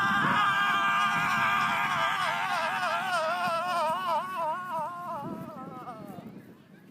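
Children at a school field day yell in a sustained, wavering cry during a yell run race, the voices loud and close at first and gradually fading toward the end.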